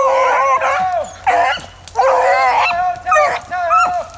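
Hunting dogs on a Georgia rabbit hunt bay and yelp in rapid, overlapping bursts while chasing a rabbit, loud and close, with brief pauses between volleys.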